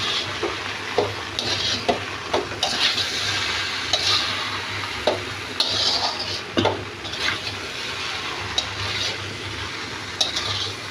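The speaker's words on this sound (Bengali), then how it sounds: "এটা একটু নাড়াচাড়া করবো।" Chowmein with soy sauce stirred in a hot pan: a continuous close sizzle with regular soft scraping strokes of the spatula, and no voices.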